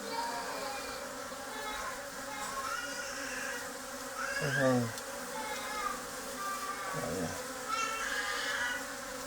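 A small swarm of bees in January makes a dense, continuous buzz close by, with individual insects whining past in brief rising and falling tones and faint low murmurs underneath.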